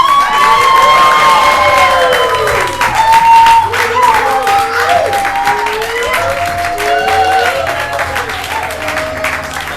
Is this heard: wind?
no